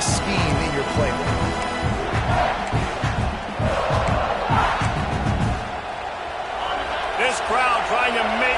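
Roaring crowd noise fills a Canadian football stadium during an offensive drive, a dense, continuous wash of cheering and shouting that stays loud throughout, with a voice talking over it.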